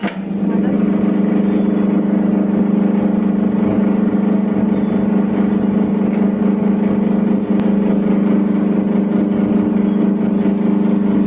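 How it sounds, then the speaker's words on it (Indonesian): An electric dough mixing machine runs steadily with a constant motor hum while mixing fried bakpao dough of milk and egg, loud and continuous throughout. "langsung saya nyalakan mesinnya"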